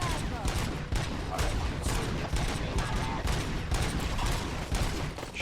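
Rapid gunfire in the video game RoboCop Rogue City rattles in dense, continuous bursts with little pause, loud and close throughout.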